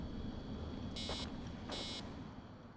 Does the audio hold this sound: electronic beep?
yes